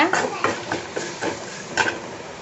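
Spoon stirring turmeric and asafoetida into spices frying in a pan for pepper-cumin rasam, a series of soft scraping strokes at close range with a faint sizzle underneath.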